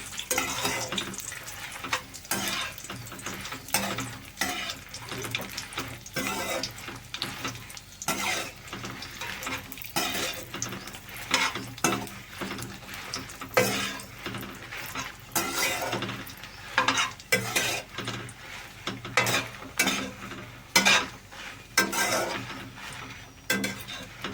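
Tomato chutney ingredients fry in a pan under continuous stirring, with a steady sizzle broken by repeated scraping strokes and occasional clinks of the utensil against the metal.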